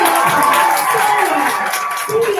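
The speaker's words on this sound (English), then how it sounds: "My dear audience, I can hear you clapping." A graduation audience at an African science academy claps and cheers steadily throughout, with a dense wash of crowd noise and faint voices mixed in.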